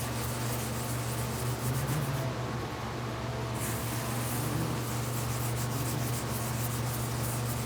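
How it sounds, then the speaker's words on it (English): Tin is scrubbed onto a cast babbitt bearing shell in a steady, continuous rubbing rasp over a low hum. There is one short pause and no talking. "It is a scrubbing action, the tin"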